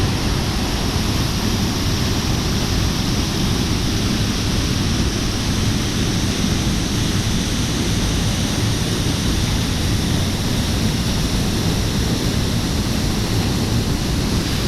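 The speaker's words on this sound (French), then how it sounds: "au plus près de la cascade" Toai Falls in New Zealand roars as a steady, dense rush of falling water, loud and unbroken from start to finish, heard close to the cascade with no voices.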